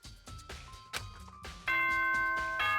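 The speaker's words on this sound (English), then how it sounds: "Ding dong, ding dong." Danganronpa's ding-dong chime rings out loud and clear, its sustained bell tones layered over game sounds and preceded by several short percussive hits.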